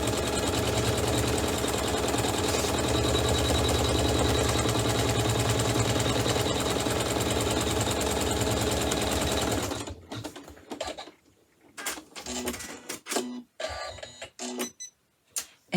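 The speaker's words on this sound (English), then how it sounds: "You're just going to stitch the placement line directly onto the quilted background piece." A sewing machine runs steadily for about ten seconds, stitching a placement line onto quilted background fabric for a chenille hot pad, then stops and is followed by scattered handling clatter.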